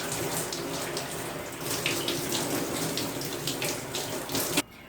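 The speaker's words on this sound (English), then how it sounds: "So I'm gonna do the first rinse now." Hair rinsed under running water while washing with shampoo, a close, steady gush and splatter from a tap that flows continuously and stops abruptly near the end.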